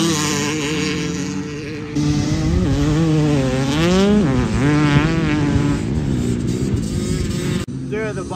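Race dirt bike with a new cylinder and head running laps on a woods track, a loud, continuous engine drone with rising and falling pitch as the rider revs through the gears, up close.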